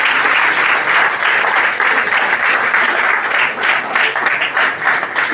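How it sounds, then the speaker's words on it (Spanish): Members of a church congregation applaud loudly during a sermon on true faith, a dense, sustained roar of clapping from many hands, close and even, running unbroken from start to finish. "Voy a dar aplauso a nuestro Dios maravilloso y hermoso"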